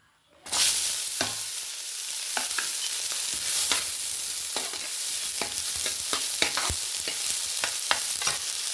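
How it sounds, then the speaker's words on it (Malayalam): Chopped onions and curry leaves drop into hot coconut oil in a pan, bursting into a loud, steady sizzle with crackling pops and occasional stirring scrapes throughout. "ഞാൻ അതിനകത്തേക്ക് ഈ അരിഞ്ഞ് വെച്ചിരിക്കുന്ന 2 മീഡിയം സൈസ് ഓണിയൻ ഇതേപോലെ ചോപ്പ് ചെയ്തതും വേപ്പിലയും കൂടി ഞാൻ അതിനകത്തേക്ക് ആഡ് ചെയ്യാണ്."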